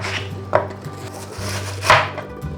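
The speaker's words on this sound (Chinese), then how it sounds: "把山药切成片状，用塑胶的刀子切" A plastic knife slices Chinese yam on a cutting board, with a couple of distinct soft chops about a second apart over a faint background hum.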